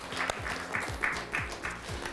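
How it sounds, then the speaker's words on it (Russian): Audience applause at a school quiz contest between School No. 49 and School No. 40; brief light clapping from a small group, with a low murmur and voices under it. "Им аплодисменты эти"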